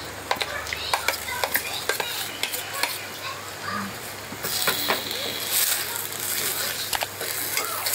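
Bamboo shoots drop into a pan of spiced pork and fermented fish sauce, then get stirred. Close, sharp clicks and scrapes of a utensil on the pan come first, followed by a steady frying sizzle.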